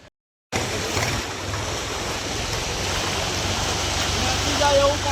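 Floodwater from the Sabarmati river rushing through a submerged area of shops and homes in Kheda, a steady loud broadband roar of moving water that fills the clip after a brief silent start.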